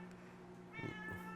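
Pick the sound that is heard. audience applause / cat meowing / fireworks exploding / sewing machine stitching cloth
cat meowing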